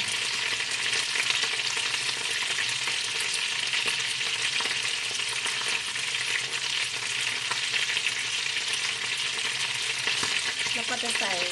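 Marinated small bird frying in hot oil as a 40-degree liquid is poured over it, a loud, continuous crackling sizzle that stays even and close throughout with no talking.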